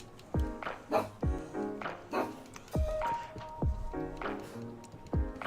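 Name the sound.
dog barking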